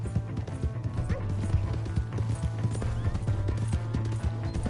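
A horse gallops in Red Dead Redemption 2, its hooves beating a fast, steady rhythm of heavy thuds close up, with faint game ambience behind and no talking.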